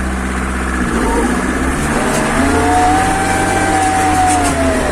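A homemade mini MTZ tractor engine runs steadily while the tractor drives off over snow, a continuous close rumble with a rising whine partway through.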